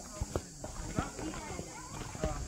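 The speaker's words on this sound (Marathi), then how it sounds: "हे असं तुम्ही घोड्यावरून पण जाऊ शकता." Horses' hooves clip-clop at a walk on a hill path at Matheran, a few distinct hoof strikes over steady outdoor background noise.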